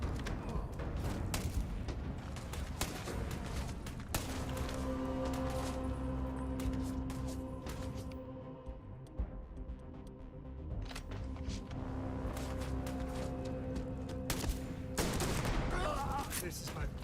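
Repeated gunfire in the space game Starfield, with bursts of shots and booms over a steady engine-like hum, briefly easing midway before resuming; a voice talks at times.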